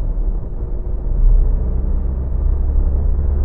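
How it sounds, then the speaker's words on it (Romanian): A Nissan Pulsar 1.5 dCi diesel car pulls at full throttle in fourth gear, heard from inside as a loud, steady low engine rumble and road drone that swells slightly without clear pitch changes. "Accelerez la podea acum."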